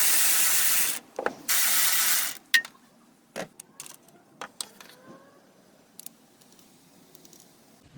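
Sharp ratchet clicks from a wrench working 10mm bolts on a Hyundai Tucson timing chain tensioner, in short bursts with brief pauses between, followed by lighter metallic taps and clinks, close and fairly loud.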